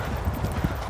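Horses cantering outside at a racing school, students riding in a string, their hooves clip-clopping in a steady, close, fairly loud rhythm of dull thuds.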